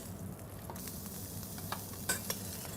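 Pearl barley is stirred through melted butter in a pan, giving a quiet steady low sizzle with a few light scraping and clinking stir strokes near the end.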